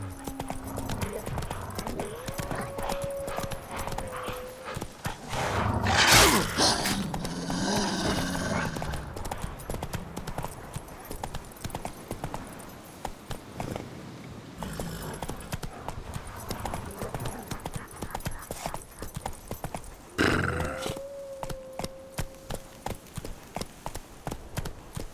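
Horse hooves clip-clopping in The Witcher 3 video game, a steady rhythmic trot that runs through the whole stretch, with two brief whinnies and a few louder bursts.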